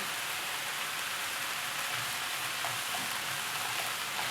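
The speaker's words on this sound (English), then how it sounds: "I'll cook the onion really good." Chopped onion sweating gently in a pan for traditional Romanian sarma, a steady soft crackle and hiss of frying that holds evenly throughout without browning.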